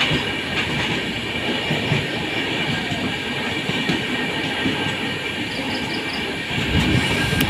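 A train runs steadily along rails through hilly Dooars country near tunnels and rivers, a loud continuous rumble with faint wheel clatter, close and unbroken, with no voices.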